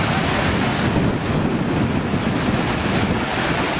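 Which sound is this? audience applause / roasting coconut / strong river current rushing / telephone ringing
strong river current rushing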